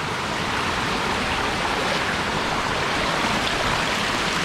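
Water from a small stream spilling down like a waterfall on a rural plot of land, a steady broadband rushing roar that holds even and continuous throughout with no voices.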